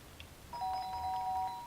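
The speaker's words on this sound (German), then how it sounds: "The doorbell went again" Doorbell in the video game Fragments of Him, a single sustained electronic chime ringing clearly for about a second over quiet room tone.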